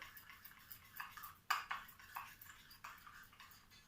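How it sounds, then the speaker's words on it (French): Almond milk mixture stirred in a bowl, a faint series of light clinks and scrapes of a utensil against the bowl, one sharper knock midway, quiet and close. "Donc là, je mélange."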